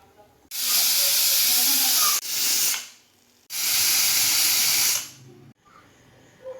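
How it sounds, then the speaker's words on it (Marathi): A pressure cooker cooking daliya (broken wheat) with turmeric vents steam in loud, close hissing bursts: a long blast, a shorter one, a pause, then another long blast before it quiets. "कुकरला 3 शिट्ट्या करून घ्या।"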